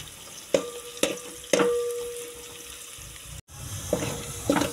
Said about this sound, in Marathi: तर पहिले तर कांदा भाजून घेऊया आपण